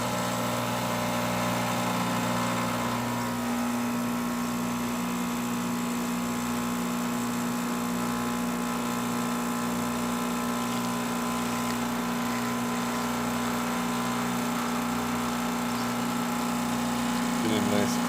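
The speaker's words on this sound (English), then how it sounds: "Today we're testing this Isomac espresso machine" An Isomac espresso machine, recently fitted with a new heating element, pulls a shot with a steady low pump hum and drone that runs throughout at moderate level, with a faint voice in the background.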